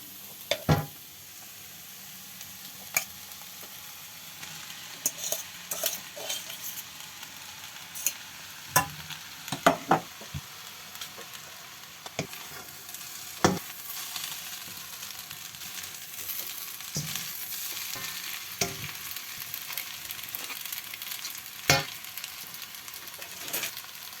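A spoon stirs egg masala and noodles in a sizzling pan, giving a steady frying hiss broken by scattered clinks and scrapes, with no talking.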